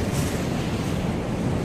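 Swollen Mahanadi river in flood at Semariya Ghat near Bhatapara, rushing floodwater reaching the bridge: a continuous broadband roar of churning water mixed with wind buffeting the microphone, loud and steady, with no voices.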